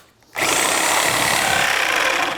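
A power tool starts abruptly and runs at a steady, high-pitched whine, cutting out screws in a basement wall's bottom plate during framing, close and loud without pause.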